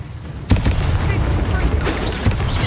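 An Incendio fire spell blasts in the Hogwarts Legacy video game, with sharp booming bursts over a dense rumbling roar of combat effects.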